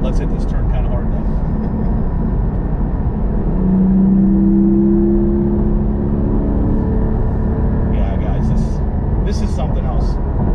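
A manual 2020 Porsche GT4 sports car drones steadily while driving, its engine note rising briefly as it pushes hard into a turn, with someone talking over the engine throughout.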